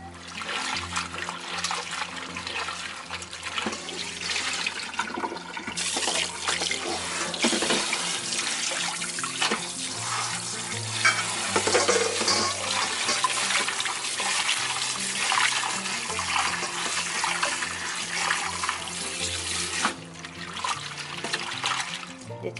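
Seaweed is washed by hand under a running kitchen tap: a steady stream of water splashes into the sink, with sloshing and squeezing sounds as the fronds are rubbed, close and continuous.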